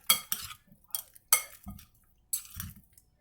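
Mashed banana and papaya being stirred together in a bowl, giving a few soft, wet scraping and clinking strokes of a utensil in quick irregular bursts, close and fairly quiet.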